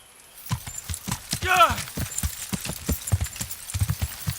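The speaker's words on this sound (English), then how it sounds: "Horse." A horse in the video game Kingdom Come Deliverance clip-clops with a run of close, rhythmic hoofbeats, and a short rising whinny cuts through near the start, loud and alone.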